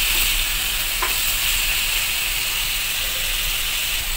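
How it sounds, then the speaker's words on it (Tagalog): Chicken pieces fry and sizzle steadily in a pan, a continuous loud hiss with a brief clink of stirring near the start, no voices. "halo-haloin ko lang din. Hanggang sa medyo mag-brown na yung ating chicken."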